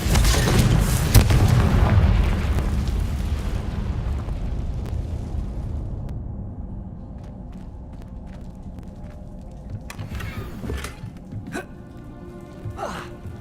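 Confringo blasting spell from the video game Hogwarts Legacy, a loud booming explosion with a rumbling tail that fades over several seconds, then quieter game sounds and a few sharp clicks.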